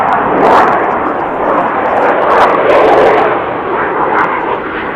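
Military jet aircraft passing over Coupeville OLF, a loud, continuous broadband roar that swells and fades slightly over a few seconds, close and dominating.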